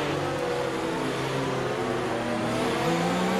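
Formula 1 race car from F1 2019 holding high revs on the grid before a race start, a steady loud engine drone with harmonic tones that shift slightly, no voices.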